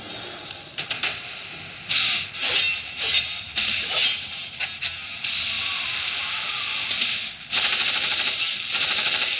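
Video game gunfire in a solo versus squad match: rapid automatic bursts, then longer sustained fire with short pauses, loud and close. A voice talks faintly under the shots.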